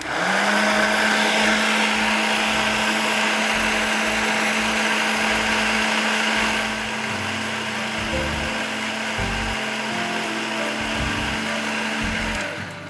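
A blender runs loudly and steadily emulsifying tartar sauce, its motor tone shifting and labouring partway through as the contents thicken.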